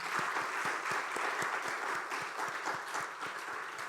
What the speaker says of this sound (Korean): 우리 교회 처음 나오신 분들 박수로 환영하도록 하겠습니다